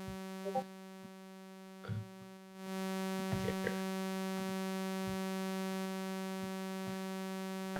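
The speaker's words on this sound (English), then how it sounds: "This is why this is called a saw wave" A synthesized sawtooth wave generated with the Web Audio API plays as a steady, buzzy, low-pitched tone rich in harmonics. It runs continuously throughout, with a few soft clicks and no voices.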